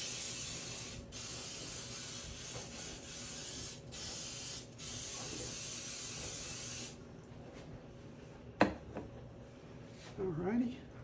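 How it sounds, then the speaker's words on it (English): Cooking spray hisses onto a pizza pan in several steady bursts with brief pauses, close and loud, then stops, followed by a few faint clunks and handling noises. "So what I'm going to do is I'm going to spray my pan."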